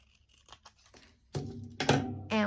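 Scissors or tearing trim the top off a paper index card close up, giving soft rustles followed by a few louder crisp cutting and crinkling bursts near the end.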